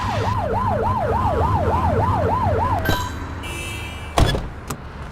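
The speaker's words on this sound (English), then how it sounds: "Get behind them and flip the siren and make them pull over" A police car siren from The Precinct video game wails in a steady rising-and-falling cycle for a few seconds, then cuts off, followed by a few sharp clunks like car doors.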